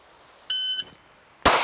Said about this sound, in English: I'm going to come out, hit my timer